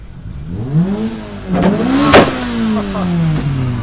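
A Honda Integra at the Honda Euro Meet 2023 revs several times nearby, its engine note sweeping up and down in rising and falling surges, each peak marked by a sharp crackle, with no speech.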